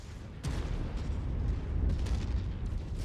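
Enemy weapon fire slams into a player's mech in the MechWarrior 5 video game, a sudden heavy impact followed by continuous booming, rumbling blasts that stay loud and dense throughout.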